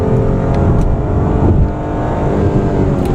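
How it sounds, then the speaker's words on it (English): A 2015 Hyundai Genesis with a 3.8L V6 accelerates in a loud, steady drone of engine and road noise heard from inside the cabin, with no pauses. "this is a very smooth engine"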